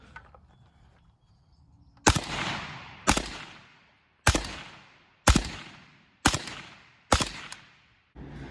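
Seven suppressed rifle shots through a CAT WB 718 suppressor crack out at roughly one-second intervals outdoors. Each sharp report is followed by a brief decaying tail.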